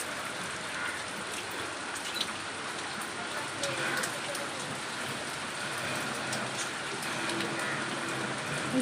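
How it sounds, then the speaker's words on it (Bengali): Steady rain falls in a dense, even hiss, with scattered drops pattering on nearby surfaces throughout. "দেখা যাক বৃষ্টি কতক্ষণ হয়"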